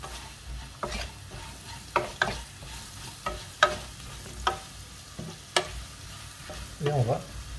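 Cubed potatoes frying with garlic in a pan are stirred, giving a series of clear spatula scrapes and knocks spaced about a second apart over a soft, steady sizzle, close up and with no talk.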